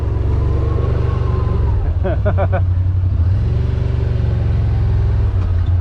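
Yamaha Rmax 1000 side-by-side engine droning loud and steady with revving as a tire spins, a voice speaking briefly over the rumble midway.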